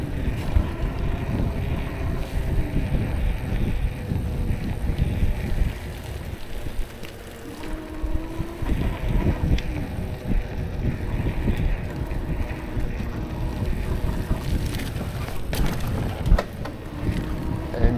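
A heavily loaded bicycle rides along a neighborhood bike path with steady road and tire rumble, constant wind buffeting the microphone and a few brief rattles and clunks from the bike. No one speaks.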